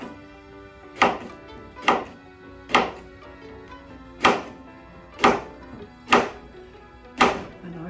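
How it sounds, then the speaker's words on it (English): Seven sharp, evenly spaced knife chops through cucumber onto a cutting board with a somewhat dull knife, each a crisp thunk about a second apart, close and clear with no talking. "So we're going ahead and finishing cutting the cucumber in slices."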